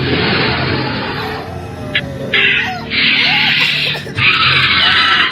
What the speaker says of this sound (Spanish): Era algo parecido al chillido que hace un cerdo cuando lo matan y el llanto de un bebé.